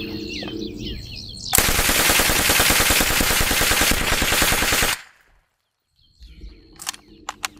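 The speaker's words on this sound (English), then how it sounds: "he's never shot a Thompson or an MP40 before, so we're going to get his unbiased opinion as far as controllability on full auto goes" MP40 submachine gun firing on full auto, one long, loud, rapid burst of about three and a half seconds that stops abruptly, followed by near silence and some faint outdoor clicks.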